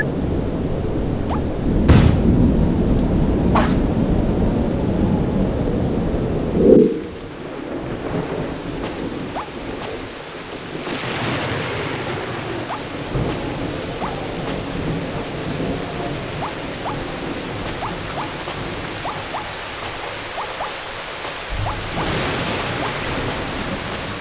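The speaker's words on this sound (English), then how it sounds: "Maybe our friends came in here to take shelter from the rain." Steady rain with rolling thunder in the video game BattleBlock Theater, a constant wash of downpour broken by a couple of sharp, loud thunder cracks early on and deeper rumbles later, with no voices.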